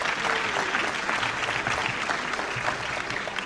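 Dense, steady applause from an audience at an MLK weekend award ceremony, many hands clapping continuously and close for the whole stretch, with a faint murmur of crowd underneath.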